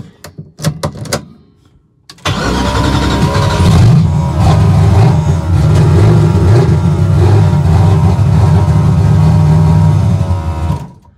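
A race car engine with the transmission in park cranks briefly with a few stuttering turns, then catches and starts, settling into a loud, steady, rumbling idle that runs close and continuous to the end.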